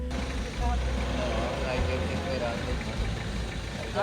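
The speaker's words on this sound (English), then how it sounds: "hitch a ride on the back of this pickup" A 4-wheel-drive pickup truck heard from a ride on its back in Guatemala, a loud, steady low engine rumble close by, with people talking over it.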